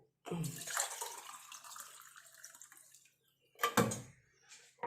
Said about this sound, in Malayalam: ഗ്ലാസ്സിലേക്ക് ഒഴിച്ച് കാണിച്ചു തരാം